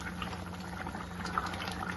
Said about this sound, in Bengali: এখন জল দিয়েছিলাম, গরম জলটা, মাংস পুরো টকবকিয়ে ফুটছে